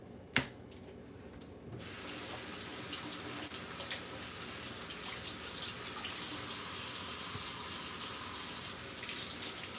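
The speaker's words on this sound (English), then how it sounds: "I will rinse my vegetables off, like rinse them" Tap water runs steadily into a sink while vegetables are rinsed under it, a continuous broadband hiss that swells louder after a couple of seconds, with a sharp click near the start.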